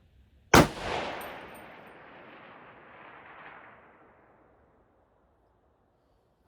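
A single loud, sharp report from an AR-10 .308 rifle fired outdoors at a 1,000-yard target, followed by a long rolling echo that fades over several seconds, with no talk.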